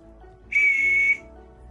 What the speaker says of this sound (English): Safety whistle.